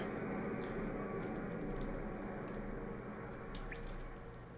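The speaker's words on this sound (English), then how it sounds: "He says as his sub makes a toilet flushing sound. Alright, that's just us flushing the ballast." A submarine in Silent Hunter 5 flushes its ballast with a steady, toilet-flush-like rush of water, continuous and fairly loud and fading slightly toward the end, with faint drips on top.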